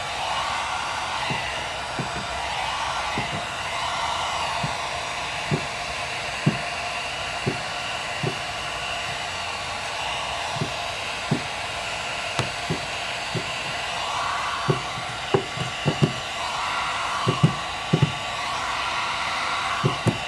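Heat gun blowing a steady, loud airflow while paint protection film is warmed onto a 2015-2023 Ford Mustang's front and rear quarter panels, with frequent light taps and clicks of handling on top.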